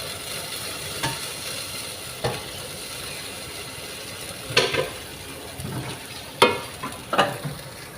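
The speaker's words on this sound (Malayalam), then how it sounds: "നന്നായി കുക്കർ നന്നായി ചൂടാകണം കേട്ടോ ഇനി നമുക്കിതിൽ ഒഴിച്ചു കൊടുക്കാം" Appam batter poured into a hot pressure cooker sizzles, a steady frying hiss broken by a few sharp bursts and metallic clinks, close and alone without talk.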